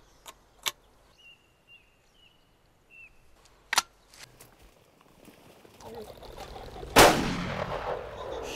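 A single loud gunshot from a hunting rifle fired outdoors stands out near the end, preceded by scattered faint clicks and knocks and followed by a decaying echo and rising background noise.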